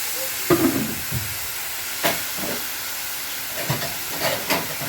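A cup of water splashed into a hot kadai bursts into several short hissing spurts of steam, separated by brief quieter gaps, close and fairly loud.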